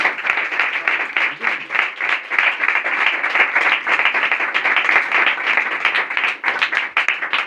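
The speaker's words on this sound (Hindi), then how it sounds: "एक बार अपने लिए जोरदार तालियां बजाइए" A congregation at a church service claps loudly for themselves, a dense, energetic round of applause with rapid overlapping claps that holds steady from start to finish.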